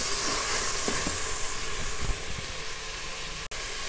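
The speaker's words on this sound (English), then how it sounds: "Saute all these together for about 2 to 3 minutes." Chopped ripe red tomatoes sauté in a hot pan, giving a steady, close sizzle and hiss with a few soft stirring knocks and no voices.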